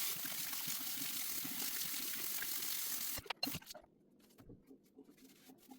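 Running water rinses a charcoal face mask off skin, with a steady stream splashing for a few seconds before it cuts off and leaves scattered drips and small splashes.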